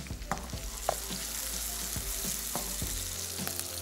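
Boiled rice frying with green chillies in a pan, a steady close sizzle with scattered scraping stir clicks, no talking.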